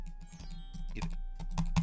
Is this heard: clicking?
yes